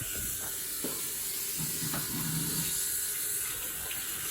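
Water sprays steadily while a vehicle's air conditioner and radiator are washed, a continuous faint hiss and splash with a few small knocks, and no voices.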